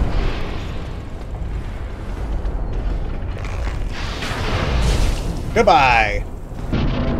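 Explosions in Dark Souls rumble as deep, continuous booms and bursts, building to a loud blast near the end, with a brief spoken word over the noise.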